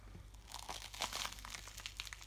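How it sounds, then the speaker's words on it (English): Crisp crinkly crunching from a bite into deep-fried ice cream with a bread coating and cinnamon sugar, a short close burst of crackles with no talking. "Let's listen for that crunch."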